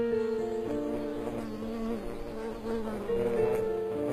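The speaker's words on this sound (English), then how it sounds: "This is a male wool carder bee," A male wool carder bee buzzes steadily and close by in its territory, its drone wavering slightly in pitch as it hovers and moves about, with no voices.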